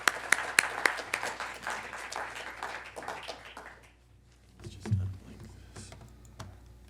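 Audience applause welcoming a professor to a lecture on Mexico's democracy: a crowd claps steadily for about four seconds, then fades out, with a few scattered claps and faint room noise left behind.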